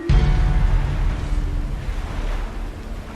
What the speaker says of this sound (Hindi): बीच में पानी का करंट बहुत तेज है मैम, पानी उनसे नहीं कटेगा।